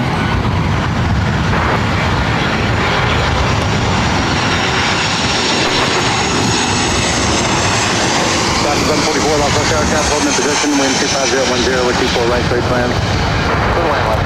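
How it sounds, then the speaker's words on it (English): Southwest Airlines Boeing 737-700 arriving at LAX from San Francisco, a loud sustained engine roar with a drifting whine, heard up close and steady throughout under voices talking. "This arrival is Southwest Airlines 3207 coming in from San Francisco for 737-700"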